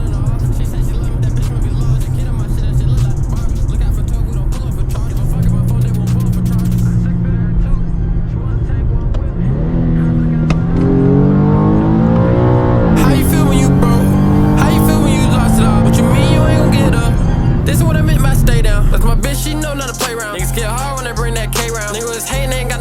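A modded Infiniti G37 accelerates hard through its gears, the engine note climbing loud and close with rising revs and shifts. Rap music plays over it before the engine fades at the end.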